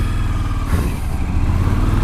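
A Suzuki V-Strom motorcycle rides off-road, its engine droning steadily and loud up close with a throbbing low rumble and a slight rise in revs, heard alone without talk.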